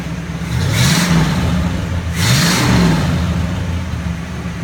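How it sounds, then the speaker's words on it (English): A 1968 Oldsmobile 442 V8 revs up twice from a steady idle, each blip rising and falling back over about a second, close and loud with no talking. "Maybe we can give it a couple of revs."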